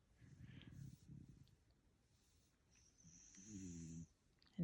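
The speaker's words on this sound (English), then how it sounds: "I have to admit, it's kind of cute seeing dogs snore." A sleeping dog snores softly, with several low, breathy rasps in slow succession, fairly close and faint, ending in a sharper louder snort.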